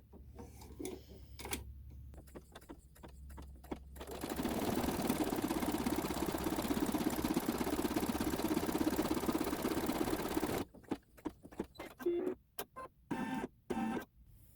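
A sewing machine stitches a satin detail on a quilt block, giving a steady, fast mechanical whir for several seconds between bursts of short, clattering stitch-by-stitch taps at the start and end.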